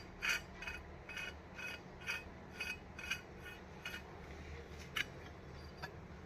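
A sewing machine part rubs during cleaning, giving a run of short rasping scrapes at a fairly steady rhythm, about nine or ten strokes, close and faint over a low hum.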